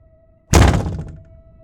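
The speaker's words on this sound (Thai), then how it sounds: "ทันใดนั้นประตูห้องปิดเสียงดังปัง" A room door in an abandoned factory slams shut with a single sharp, loud bang that rings and decays over a second, against a faint steady hum.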